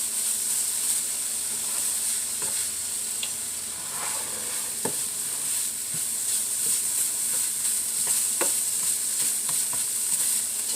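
Sauce sizzles with a constant hiss in a pan while a utensil stirs it, giving occasional soft scrapes and clicks. No voices.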